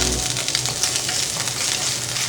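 Chopped onion hitting a hot frying pan for a sautéed cabbage and sardine dish, giving a steady, dense sizzle that stays loud and even throughout with no talking.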